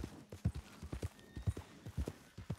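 Horse hooves clop in the video game Red Dead Redemption 2 with a steady, rhythmic stride: a string of close, distinct hoof beats with little else around them.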